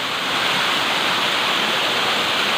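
Mabonao Falls pours with a loud, steady, broadband rush of falling water, close and continuous with no voices.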